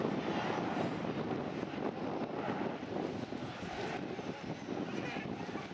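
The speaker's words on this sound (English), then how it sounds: "Flying the aircraft today is Mark." A BAC Strikemaster jet displaying at the Air Waves Portrush 2015 air show makes a steady, loud roar mixed with wind buffeting the microphone, with no break in the sound.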